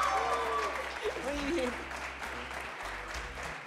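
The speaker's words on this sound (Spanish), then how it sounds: "Un aplauso para ellos." Studio audience applauds a couple on a Spanish-language television dating and wedding programme, a steady wash of clapping running under a host's talk for several seconds.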